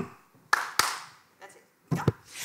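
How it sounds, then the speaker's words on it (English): Two sharp hand claps ring out close together at a city-planning talk, followed by a fainter pause and then another quick pair of claps, with quiet gaps between. "If you agree with something, you want to applaud, you only do it by clapping your hands twice."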